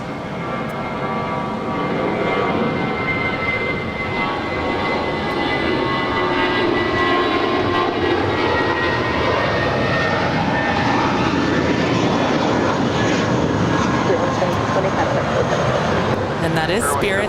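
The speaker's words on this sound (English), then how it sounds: "That is Spirit 1720, making the short hop over to Las Vegas." A Spirit Airlines jet takes off from LAX on a short flight to Las Vegas, its engine roar loud and steady throughout, with faint rising whine tones and a voice talking over it.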